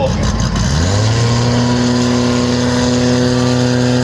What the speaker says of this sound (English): Nice burn out there from Mansour